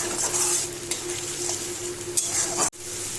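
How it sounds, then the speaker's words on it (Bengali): Spice masala with boiled peas and potatoes is stir-fried for ghugni. A steady close sizzle runs under repeated scraping strokes of a spatula against the pan, ending with a sharp knock. "এর মধ্যে আমি এই মটরশুঁটি আর আলু সিদ্ধটা দিয়ে সামান্য কষিয়ে নেব"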